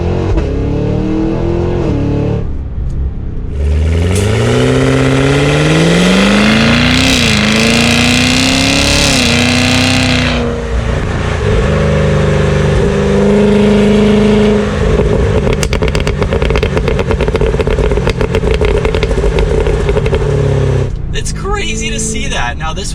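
A 2023 Cadillac Escalade V with AWD revs hard under acceleration, its engine note climbing in loud rising sweeps, then settling into a steady drone before cutting off near the end, with someone talking over it.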